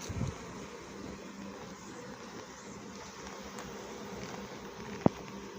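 A weak honeybee colony buzzes steadily as a hive is opened and frames of pollen and capped honey are inspected, with a continuous close drone and one brief sharp knock near the end.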